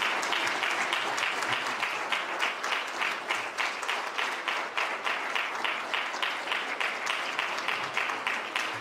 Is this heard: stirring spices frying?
no